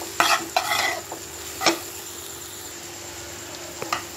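A spoon scrapes and stirs in a pan in a few sharp strokes while tempering spices for dal sizzle quietly underneath.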